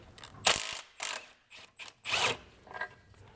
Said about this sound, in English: This rearward locating bolt for the subframe is 18mm. We'll just go ahead and pull that out entirely.